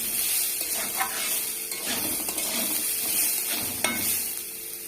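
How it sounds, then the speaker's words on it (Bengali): Whole mung dal frying in hot oil in a kadai, a steady close sizzle with occasional stirring scrapes and crackles throughout, no talking. "তেল গরম হয়ে গেছে, দিয়ে দেবো। এভাবে একটু লাল করে ভেজে নেবো মুগ ডালটাকে।"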